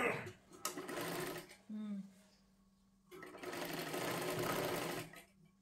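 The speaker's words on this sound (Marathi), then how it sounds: "आणि पूर्ण शिलाई मारून घ्यायची आहे" An electric sewing machine runs in two bursts of rapid stitching on a princess blouse, the second longer, with a brief whirr between them.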